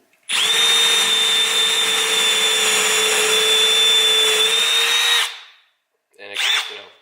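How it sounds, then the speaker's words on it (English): A Milwaukee M12 Fuel 1/2-inch hammer drill whines steadily at high speed while boring into wood, loud and close for about five seconds, then stops before a brief second burst. "So with the drill, you know, you put it in the wood,"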